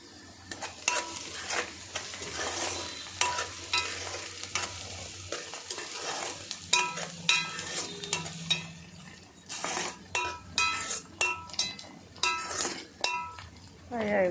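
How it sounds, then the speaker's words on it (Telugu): Ingredients for a mutton curry fry in a pan with a crackling sizzle, broken by repeated spoon stirs and scrapes against the metal, heard close up while someone talks at times. "ఫ్రై అయిపోతున్నాయి చూసారా."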